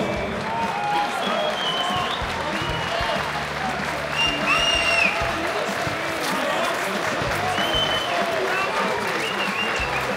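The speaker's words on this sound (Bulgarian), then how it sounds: "Моля за вашите аплодисменти" Applause from an audience at a youth football award ceremony honouring an age-group team of champions, sustained clapping throughout with a few voices and cheers mixed in, steady and fairly loud.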